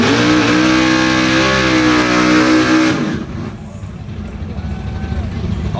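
Extra-loud LS twin-turbo shop truck at a drag race, its engine roaring hard for about three seconds and then dropping away to a rumbling idle and crowd noise; someone talks over it.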